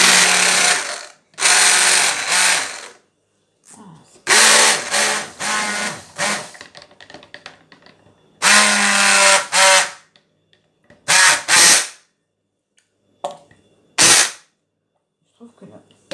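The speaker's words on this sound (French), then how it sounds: "On va mixer un petit coup." A stick blender mixes soap batter in several loud, whirring bursts separated by silences. Some bursts are long and some are brief, with a quiet voice heard between them.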